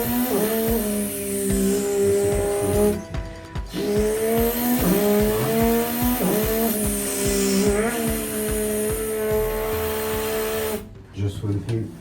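A human voice imitates a Formula 1 car engine, producing high, whining rises and falls like gear upshifts and revving sweeps, loud and close, with brief pauses between runs.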